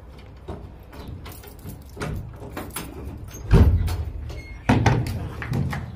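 A door at a shrine creaks and knocks open amid scattered taps and shuffling, with two heavier thumps in the second half over quiet room ambience.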